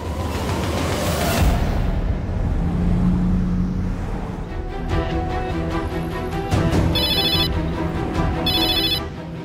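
A telephone rings in a household scene from a Hindi TV drama, with two short electronic ring bursts heard late in the clip over a busy, loud background of engine rumble and commotion; nobody speaks.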